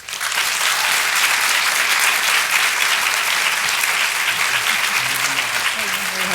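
Audience applause welcoming Sandra Boynton at an Askwith Forum talk, a dense, loud, sustained clapping from a full crowd lasting the whole stretch with no letup, close and even.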